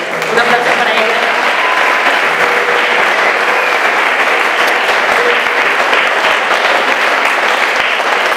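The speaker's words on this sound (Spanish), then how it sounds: "Un aplauso para ella." Sustained applause from a concert audience at the Monasterio de Rioseco in Burgos, loud and steady throughout with dense clapping and no pause.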